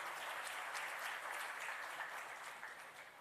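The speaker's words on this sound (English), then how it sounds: "So let's give everybody a big round of applause." An audience applauds at a city success-stories event, steady dense clapping throughout, fairly distant and even in level, fading slightly at the end.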